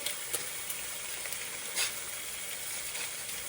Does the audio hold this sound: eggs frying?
yes